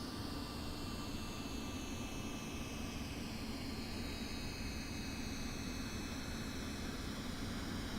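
Steady, broad roar of MD-80 jet engines in the X-Plane 11 flight simulator, a constant loud drone with faint high whine tones, continuous for the whole stretch with no talk.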